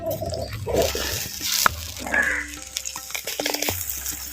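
Masala thickened with water and rock salt bubbles and sizzles in a clay pot over a village fire, with close, uneven crackling and occasional stirring scrapes and soft pops, and no one speaking.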